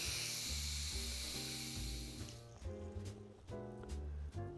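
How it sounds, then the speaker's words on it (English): Steam hisses loudly from an Instant Pot's pressure release after cooking a pork roast, a strong continuous rush for about two seconds that then cuts off, leaving a quieter room with faint clicks over steady background music. "We need to release the steam in this so we can open up."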